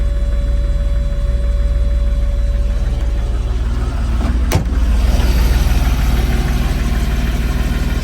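A 1977 Porsche 930 engine running at idle, a loud, steady low rumble with a sharp click partway through, heard close and alone.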